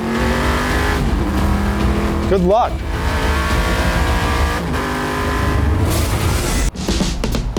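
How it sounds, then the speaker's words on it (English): A 1969 Chevrolet Camaro race car built for land speed records revs loud and close, the engine note rising and falling in steady sweeps with a sharp surge midway, while someone speaks briefly over it. "This 69 Camaro is a full-blown race car built to set land speed records"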